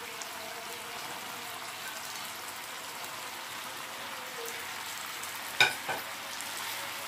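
Chicken pieces for Chicken 65 sizzle and fry in hot oil with a steady crackling hiss, broken by one brief sharp clatter near the end.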